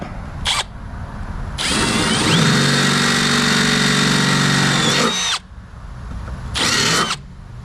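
A power drill whirs loudly and steadily for a few seconds as it bores through the metal body of a Jeep Gladiator, with short bursts of drilling before and after.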